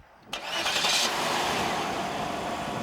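A 1995 Oldsmobile Aurora's 4-litre 4-cam 32-valve V8 cranks and fires up abruptly, a brief flare of revs settling into a steady, smooth idle, close and loud.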